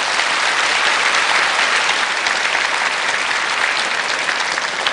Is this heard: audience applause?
yes